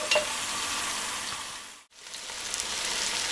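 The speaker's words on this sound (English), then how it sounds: "So we'll just brown them off, probably take about 5 minutes" Onions brown in a pan with a steady, dense sizzle and crackle, dipping briefly as they are stirred before the frying noise returns close and even.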